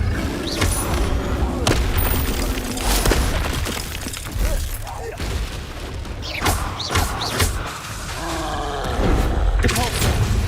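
Spell effects in Hogwarts Legacy, including a Depulso force blast, booming impacts, shattering bursts and whooshing roars over continuous battle noise, with a voice calling out spell names.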